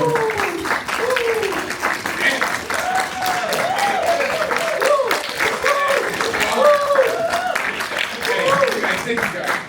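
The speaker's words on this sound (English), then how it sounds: "Let's give a round of applause for National Director, Mr. Stephen Ray." An audience gives a continuous round of applause for a National Director taking the stage at a training event, the clapping steady and moderately loud with a presenter's voice speaking over it.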